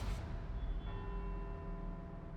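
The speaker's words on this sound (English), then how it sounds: "let's see if we can visit every bell tower in Edinburgh and get back here before they all stop ringing" Edinburgh bell towers ringing in the racing video game Forza Horizon 4, faint sustained bell tones over a low rumbling background, heard without talk.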